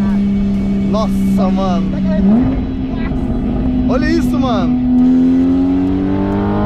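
A friend's sports car engine pulls hard and revs up loudly from inside the cabin, with a rising whine as it accelerates and a climbing pitch late on, while excited voices talk over it.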